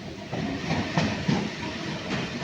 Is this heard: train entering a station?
yes